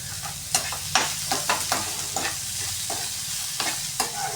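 Onions sautéing with salt in a pan, a steady close sizzle broken by repeated scraping stirs of a spoon, about one every half second, with no talking.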